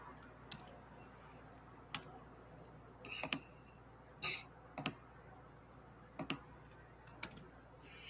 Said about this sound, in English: Sorry, guys, just typing.